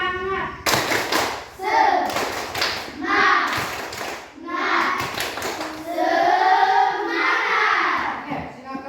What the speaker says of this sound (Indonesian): Oke, sekali kita tepuk semangat.